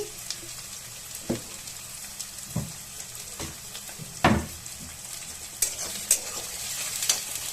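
A steady sizzle of onion, mustard seeds and green chilli frying in oil in a wok, broken by sharp spatula scrapes and clinks at irregular intervals, close by with no talking.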